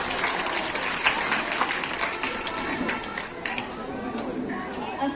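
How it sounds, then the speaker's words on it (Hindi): An audience at a Teacher's Day mushaira applauds to welcome a speaker to the mic, a full, steady round of clapping with crowd murmur mixed in and a voice speaking over it. "आपकी जोरदार तालियों के साथ शकील आज़मी साहिब।"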